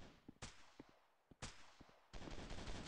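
Video-game gunfire in a commando shooter: sharp single gunshots cracking out one by one, then a dense automatic burst rattling loudly to the end, with no talk over it.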